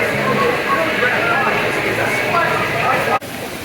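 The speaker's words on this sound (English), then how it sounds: "River raft ride as opposed to a log flume ride that we just were on." Rushing water and a busy outdoor hubbub fill a river raft ride at Islands of Adventure, steady and fairly loud throughout, with a brief dip near the end.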